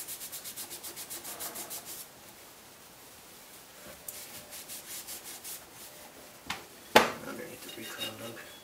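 Parts of a Remington 700 rifle are scrubbed with fine steel wool in close, rhythmic rubbing strokes, with a pause, a few light metallic clinks and a sharp knock near the end.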